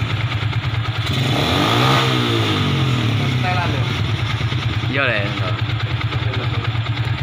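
An old Yamaha Vixion motorcycle with a hot-engine misfire and a lit MIL warning lamp idles steadily close by, with a brief rev partway through, while people talk over it.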